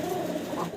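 A single Magpie Danish pigeon, a black bird with a shiny neck, gives one close, continuous throaty coo, fairly loud and alone without speech.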